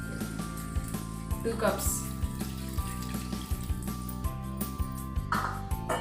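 Milk pours into a pot on the stove for a corn-powder recipe, a steady liquid stream under a continuous hum as a person talks throughout.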